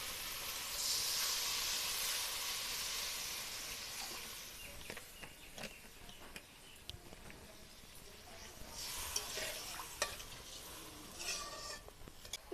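Water poured into sizzling masala for a Bengali bhola fish curry, a burst of loud steamy hiss that settles into quieter bubbling, with scattered spoon clinks and stirring scrapes near the pan.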